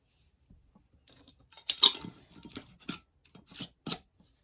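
Coarse salt handled by hand: a scattered run of soft gritty rubs and crunchy scrapes, close and sparse, with quiet gaps between.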